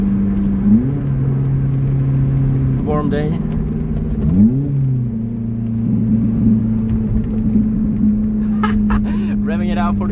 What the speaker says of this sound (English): Revving it out for the kids